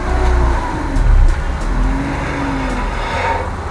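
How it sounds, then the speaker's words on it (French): A BMW 323ci E46 undergoing brake and control-arm work runs at idle with its wheels turning, giving a steady, close, broadband engine and drivetrain rumble with faint whining tones and a brief louder swell. "Je peux démarrer et faire tourner les roues."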